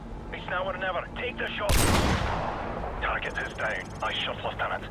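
A single loud, sharp shot from a Barrett sniper rifle in the video game Call of Duty 4: Modern Warfare cracks out and rings off, with someone narrating before and after it.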